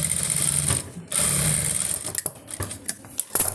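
Domestic sewing machine stitching a pleated saree blouse sleeve along its border edge: a loud, steady whirring run, a short pause, another run, then a string of intermittent mechanical clicks and short stitching bursts. No talking.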